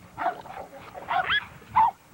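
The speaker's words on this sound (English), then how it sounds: "We call this dog Tonka." A stud dog in an Illinois kennel yard gives a few short yips and whimpering barks, close up and in separate bursts with brief pauses between them.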